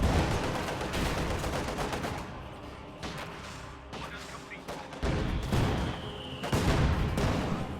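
Mortar blasts and gunfire in a real-time strategy war game, dense continuous explosions and rapid shots with several loud bursts, heard alongside talk.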